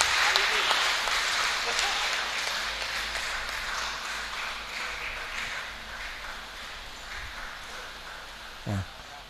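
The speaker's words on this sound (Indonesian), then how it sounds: "Tepuk tangan, monggo." Audience applause at a 2024 mosque competition award ceremony in Pasuruan: broad, continuous clapping from a large crowd that slowly fades, with a single thump near the end.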